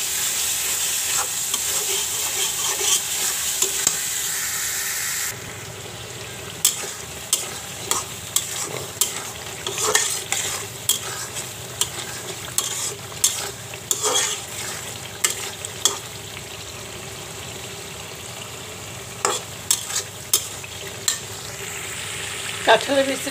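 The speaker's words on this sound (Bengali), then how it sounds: "চিংড়ি মাছ দিয়ে কাঁঠালের বিচিটা কষাইতে আছে ভালো করে।" Jackfruit seeds and prawns with garlic paste, cumin and coriander powder stir-fry in a pan, a constant loud sizzle broken by repeated sharp scrapes and clacks of the spatula, with the sizzle shifting in tone partway through.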